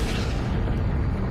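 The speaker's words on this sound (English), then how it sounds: "A massive but short-lived star exploded as a supernova." Supernova explosion sound effect: a deep, loud, continuous rumbling boom that fills the whole moment with heavy low-end roar and no voices.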